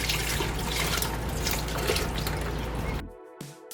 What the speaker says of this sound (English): here is the liquid that we have, and we're gonna pour this back into the blender